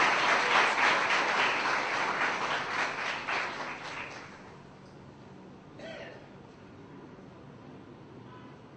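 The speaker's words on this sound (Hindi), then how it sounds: "एक बार तालियां बजाइए आपके साथियों ने जो इतना बढ़िया प्रेजेंट किया" An audience of students applauds fellow students' presentations at an institute gathering: dense, loud clapping for about four seconds, then fading into quiet room noise.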